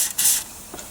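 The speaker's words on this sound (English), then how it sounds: "Okay, so here I am with the rust proofing liquid, and I'm going to spray the bolts." Rust proofing liquid sprayed from a can onto the battery bolts of an R129 Mercedes-Benz SL, a loud hissing burst near the start followed by a brief second faint spritz.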